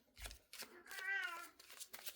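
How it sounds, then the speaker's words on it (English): A cat named Oreo gives a single short meow indoors, fairly faint, preceded by a soft shuffling sound. "Meows, Oreo says."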